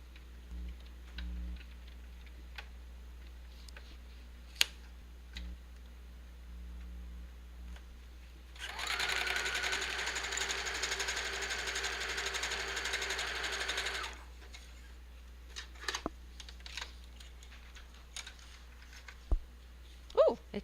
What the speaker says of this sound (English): I'm going to sew them together where there's no sewing.